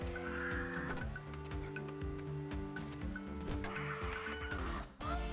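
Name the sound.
bird clucking in 7 Days to Die video game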